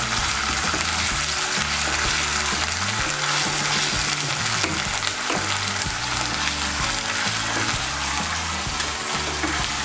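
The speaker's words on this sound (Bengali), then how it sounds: "পেঁয়াজ বাটাটাকে তেলের সঙ্গে মিশিয়ে নেব। মিশিয়ে নিয়ে একটু ভেজে নেব।" Onion paste frying in oil in a pan while cooking cauliflower korma: a steady, close sizzle with stirring, continuous and fairly loud for the whole stretch, with no voices.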